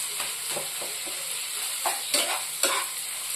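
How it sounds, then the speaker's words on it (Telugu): Tamarind pickle being stirred into a prawn curry in a hot pan, with a steady sizzle and hiss and soft, irregular scraping strokes of the spoon. "వేసేసారు చింతకాయ తొక్కు వేసి బాగా కలబెట్టుకోవాలి"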